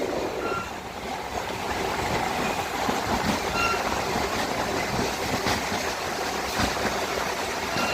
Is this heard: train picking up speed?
yes